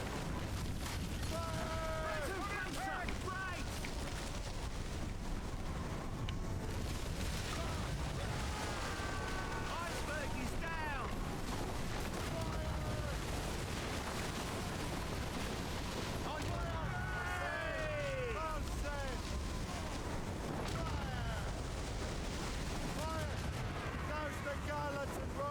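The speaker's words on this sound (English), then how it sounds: "Well, I'm glad I used all my mortar fire." Mortar fire during a naval battle in Assassin's Creed Rogue thunders as dense, continuous booms and explosions, loud and unrelenting, with voices and crew shouts mixed into the din.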